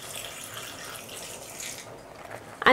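Warm water poured into a creamy sweet potato pasta sauce, a soft running splash that flows steadily and close for about two seconds before tapering off.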